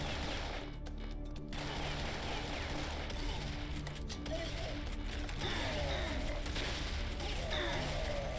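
Shotgun fire and heavy gunfire in the Serious Sam 3 BFE video game, dense repeated blasts and mechanical clanks in a loud, continuous stretch of game audio.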